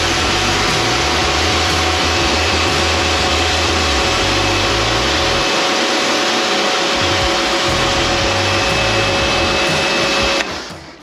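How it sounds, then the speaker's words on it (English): A pressure washer rinses a motorcycle with a loud, steady, hissing spray and a constant droning pump, running unbroken for several seconds before cutting off at the end. "so now we're going to give it a rinse off."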